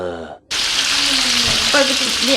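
Steady, loud sizzling of chicken for soto frying in hot oil, with a brief pause near the start and faint voices underneath.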